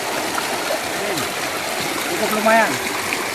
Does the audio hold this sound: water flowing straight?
yes